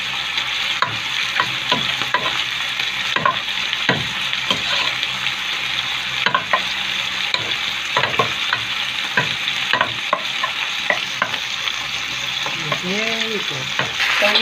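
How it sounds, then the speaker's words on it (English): Steak frying in a hot pan, a steady dense sizzle throughout with occasional scrapes and stirring clicks, close and loud with no speech. "We love to hear that sizzle when it comes to our steak."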